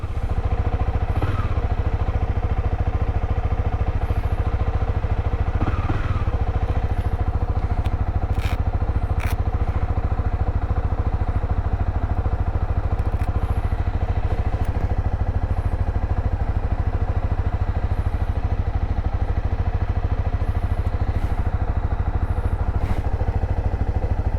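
Honda CB300R motorcycle engine idling as it warms up, a steady loud low rumble lasting the whole stretch with faint clatter and a few light ticks on top.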